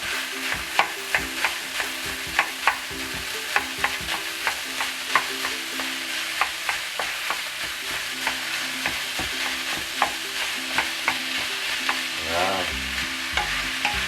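Ground pork giniling frying in a pan while a utensil stirs and scrapes it in a repeated rhythm over a steady sizzle, with a louder scrape and shuffle near the end.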